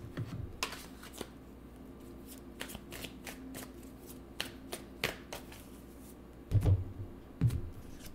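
Tarot cards are shuffled by hand in a quiet room, making a run of crisp riffling flicks and soft taps. Two louder bursts of cards being handled or drawn come near the end.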